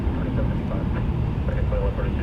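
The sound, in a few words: American Airlines Boeing 787-8 taxiing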